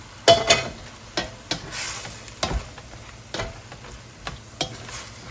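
Ground turkey and turkey sausage stirred in a pot, the spoon scraping in repeated strokes over a soft background sizzle, close and fairly loud with no voices.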